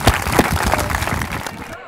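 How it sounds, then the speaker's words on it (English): A crowd at an outdoor community centennial ceremony breaks into steady, dense applause that stays loud before tapering off near the end. "So give yourself a round of applause"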